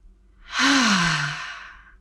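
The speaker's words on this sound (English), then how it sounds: "Full breath in and out." A deep breath drawn in and let out in a yoga-style mat workout, rising into a long, breathy exhale that fades away, close and alone with no talking.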